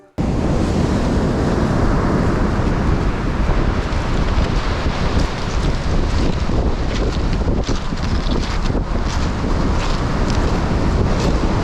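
Ocean waves breaking on a black sand beach on Iceland's south coast, a loud, steady roar of surf mixed with strong wind buffeting the microphone, with no voices.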